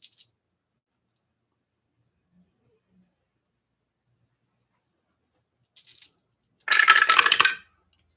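Dice tumbling and clattering to rest during a golf broadcast's game segment, a short faint rattle followed later by a louder burst of rapid clicking bounces, with silence between.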